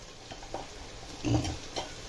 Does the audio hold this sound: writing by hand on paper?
no